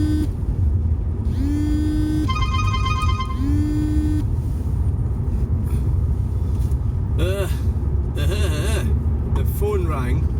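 A mobile phone rings inside a moving car as short repeated electronic tones over the steady low rumble of the road, with a voice talking at times.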